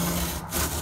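A loud, rough scraping rasp of a blade cutting through cardboard while shipping corners are made. The stroke is continuous and close up, with a short dip partway through.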